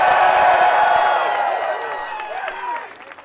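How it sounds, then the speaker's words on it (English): A Philadelphia political rally crowd claps and cheers loudly at first, then the applause fades, with scattered whoops and voices carrying through as it tapers off. "Let's give them a round of applause."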